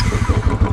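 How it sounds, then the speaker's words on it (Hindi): Motorcycle engine turning over on its electric self-starter after long disuse, a loud, close, rapid pulsing chug in short rhythmic beats, with no voices. "बहुत टाइम से बाइक चली नहीं, तो सेल्फ पे काफ़ी लंबा मार रही है"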